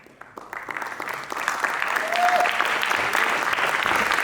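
Theatre audience applauding a stage actor at a play in Patna, clapping starting sparse and quickly building into full, steady applause from a large crowd.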